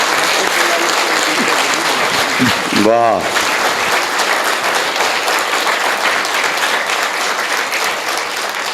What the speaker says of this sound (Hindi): इन तीनों के लिए आप हाथ खड़े करके जोरदार तालियां बजा दीजिए